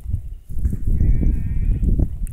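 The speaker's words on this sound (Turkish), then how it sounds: "Kuzular ağlar." Lambs bleat in the Bullet Force video game, a short wavering cry rising over a steady low rumble of game ambience, moderately loud and with no one speaking.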